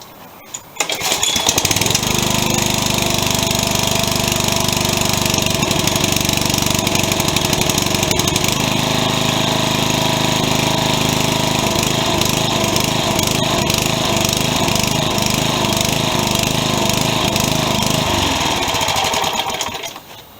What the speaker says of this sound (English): you can't beat a working running mower